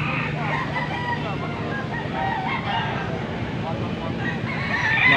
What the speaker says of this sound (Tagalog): Mga tandang.